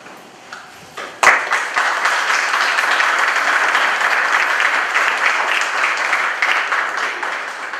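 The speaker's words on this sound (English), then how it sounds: "just hold off on the applause" Applause from a crowd rises suddenly and holds steady for several seconds, a dense wash of clapping hands that fades slightly at the end.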